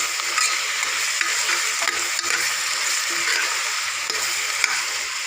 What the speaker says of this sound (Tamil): அடுத்தது காளானை எடுத்து கொட்டிக்கோங்க.